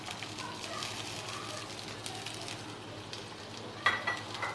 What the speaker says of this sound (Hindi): और इन्हें भी थोड़ी देर फ्राई कर लूंगी।